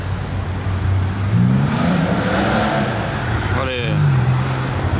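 A rally-version Porsche 2.7-litre RS or RSR drives past with a steady engine drone that rises as it passes, heard amid roadside crowd noise with people talking.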